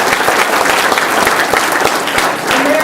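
An audience at a Rotary club awards day applauds members honored for perfect attendance. Loud, dense clapping continues steadily from start to finish.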